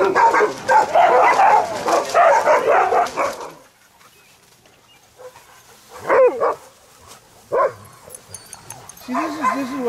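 Sled dogs at a dogsledding outfit barking and yipping in an excited chorus up close, the noise then thinning to scattered whimpers and single yips while someone talks.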